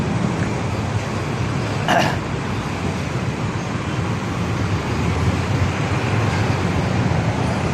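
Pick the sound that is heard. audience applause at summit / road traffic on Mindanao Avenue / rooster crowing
road traffic on Mindanao Avenue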